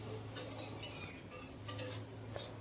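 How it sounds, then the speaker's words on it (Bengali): A metal spatula stirring and mashing tomato with spices in a pan for a pumpkin vegetable curry, soft scraping and a few light clinks over a low hum, quiet and close, no talk. "এইভাবে খুব ভালো করে একটু নাড়াচাড়া করে নিতে হবে, আর টমেটোটাকে এইভাবে একটু খুন্তির সাহায্যে ম্যাশ করে দিতে হবে।"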